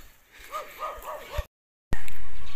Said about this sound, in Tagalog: So ang ingay talaga ng aso.